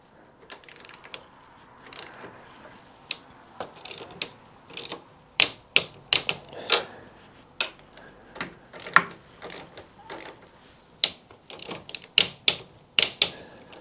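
A ratcheting torque wrench tightens the handlebar riser bolts on a 2024 BMW R1250 GSA, making quick, sharp ratchet clicks in irregular bursts that grow louder and more frequent toward the end.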